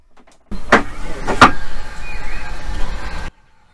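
A SOG ventilation fan for a motorhome toilet starts as the slide lever is pulled open, with two sharp mechanical clacks followed by a steady low motor whir that runs for a few seconds and then cuts off abruptly.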